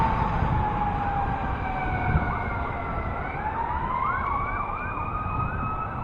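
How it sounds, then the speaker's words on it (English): A fire vehicle's siren wails close by on a street, rising and falling, then switching into a faster warbling yelp, loud and continuous over low traffic rumble. "Looks like a fire vehicle of some sort."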